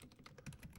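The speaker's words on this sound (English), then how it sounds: "I believe I am typing this correctly." Fast, soft keyboard typing while coding Python socket commands, a quick run of faint close clicks in a brief burst.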